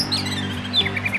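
An oriental magpie-robin (kacer) sings thin, high whistled phrases in short sliding notes over a steady low background hum, at close range.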